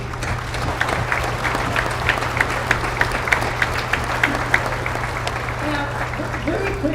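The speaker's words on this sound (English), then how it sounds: "if we could all recognize the kids, just for a round of applause for making that decision" An audience at a high school enlistee ceremony gives a round of applause for seniors who enlisted, dense clapping with rhythmic sharper claps standing out over a low hum, tapering toward the end as voices emerge.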